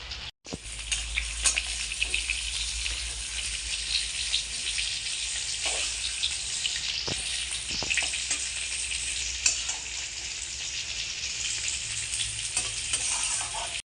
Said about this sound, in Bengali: এখন এই ডিম ভেজে নেওয়ার তেলেই সেদ্ধ করা আলু ভেজে নেব।